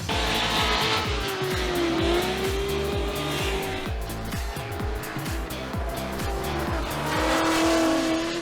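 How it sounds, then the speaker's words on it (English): Supercharged LS V8-powered BMW E46 drifting in a pro drift competition, its engine note rising and falling in pulsing throttle surges while tires squeal continuously, loud and close throughout. "I drive this supercharged LS-powered E46."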